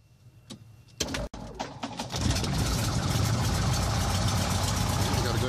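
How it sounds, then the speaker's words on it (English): A 6-cylinder Continental engine on a 1967 aircraft in X-Plane 11 cranks with a few clicks, then catches and settles into a steady, loud running drone. "You got a good engine start."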